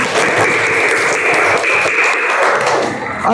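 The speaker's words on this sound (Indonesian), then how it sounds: "Oke, tepuk tangan untuk kita semuanya" Classroom applause in a teacher-training lesson: a dense, steady wash of many hands clapping together, loud and close, sustained for a few seconds before tapering slightly at the end.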